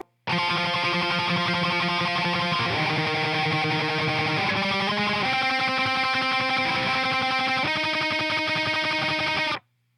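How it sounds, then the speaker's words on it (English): Electric guitar tremolo picking a riff, a continuous loud run of rapidly repeated single notes shifting pitch in steps, heavily distorted, alone without talk. "this part is tremolo picked, and it sounds like this"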